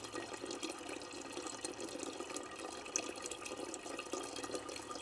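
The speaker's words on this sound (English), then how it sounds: "it gets rid of that sound of this water running" Steady, faint running water trickles and splashes continuously from a small fountain at a cemetery, with light bubbling.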